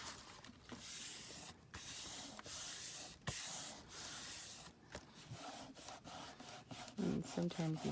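Dried clear glue is rubbed off a handmade journal cover in a steady, faint scrubbing friction with brief pauses between strokes.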